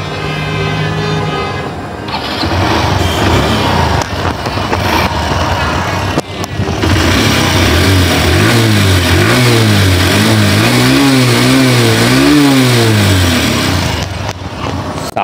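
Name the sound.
Honda Livo 110cc motorcycle engine starting and revving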